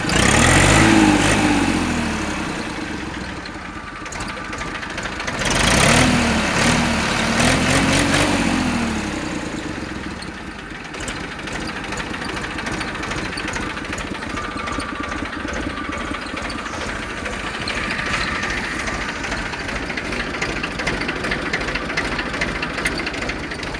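A New Holland 3230 NX Plus tractor with liftomatic hydraulics, its diesel engine running nearby in a steady chugging idle, with a couple of louder revving swells early on.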